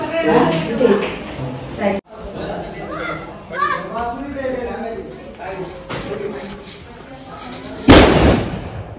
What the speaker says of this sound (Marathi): हे बघा बारीक पोरांची मजा फटाक्यामध्ये ना रे